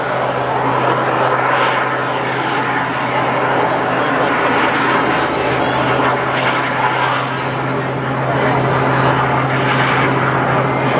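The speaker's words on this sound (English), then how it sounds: "You can hear them now as he uses all that thrust to keep the aircraft climbing up and up and up." A historic-design biplane's propeller engine drones at full thrust during an airshow climb and hover, a loud, sustained throbbing roar with a steady low hum, rising and easing slightly in waves.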